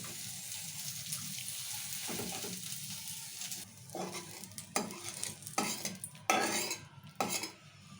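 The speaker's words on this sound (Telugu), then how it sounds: "ఇప్పుడు బెండకాయలు అన్నీ ఫ్రై చేసుకుందాం" Okra (bendakaya) frying in oil for a bendakaya fry, a steady close sizzle broken by repeated scraping and stirring strokes of a utensil in the pan, with no talking.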